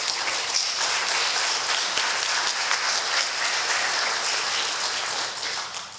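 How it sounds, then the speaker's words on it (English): An audience applauds at a 2007 Reedville remembrance gathering, a steady wash of many hands clapping that holds for several seconds and fades slightly at the end. "Thank you for your applause"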